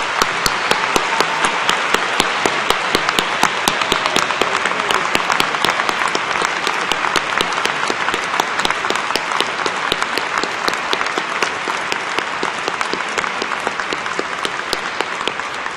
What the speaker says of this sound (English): give all the rest of us here, faculty and family, a chance to applaud you guys one last time